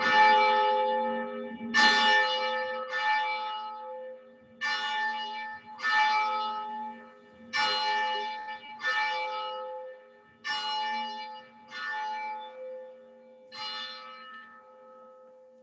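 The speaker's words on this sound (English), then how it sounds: "the ringing of the bells to begin our" Church bells ring at Hildegard House in Fairport Harbor in a slow, steady sequence of about ten resonant strikes. Each strike decays into a long humming tone, heard at a moderate distance with no voices.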